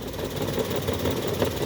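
A Suzuki Wagon R VXR/VXL engine idles with the AC off, shaking heavily, giving a steady, close, low rumble with a rough, throbbing vibration throughout.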